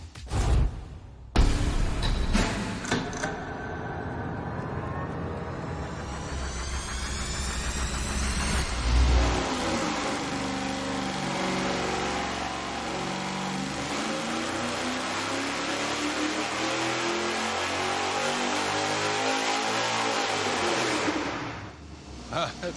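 Loud sustained roar of a carbureted engine under load on a dyno during a final pull with a dual-carb tunnel ram or cross ram intake, pitch climbing steadily for nearly twenty seconds before abruptly cutting off.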